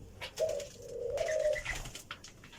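An Australian dove on a farm gives a few soft, low cooing calls, two drawn-out coos close by against a quiet background, with faint chirps from other birds.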